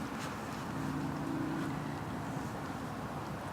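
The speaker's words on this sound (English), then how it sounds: "apart from the traffic in the distance" Far-off traffic makes a steady, even rumbling wash beside a still forest, with no distinct vehicles standing out.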